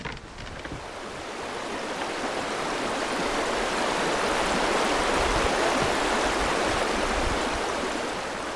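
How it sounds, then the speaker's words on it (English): Fast-flowing rapids on the River Wye, low after a dry spring, rush and churn in a steady, loud broadband roar that swells slightly and holds, with no voices. "you're into some fast-flowing water with roiling, boiling riffles and rapids"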